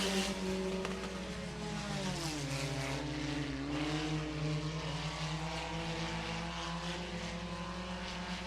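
Hobby stock race cars circle a dirt oval at Hancock County Speedway, engines droning loudly and steadily with pitch rising and falling as the pack passes, a continuous layered roar throughout.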